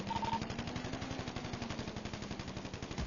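Rapid automatic gunfire in a GTA 5 roleplay gunfight, a dense, continuous stream of close, evenly spaced shots with no talking.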